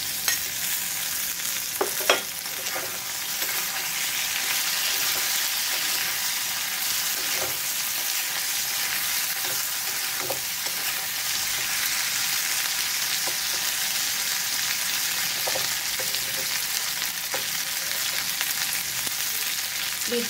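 Okra and brinjal with potato fry in a pan, a steady close sizzle running throughout with occasional soft clinks and scrapes of stirring.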